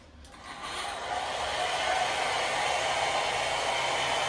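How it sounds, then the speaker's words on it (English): A hotel bathroom hair dryer at the Scandic Ishavshotel in Tromso switching on with a click, then blowing with a steady, loud, hissing whoosh that ramps up over the first second and holds constant. "they have a hair dryer for me"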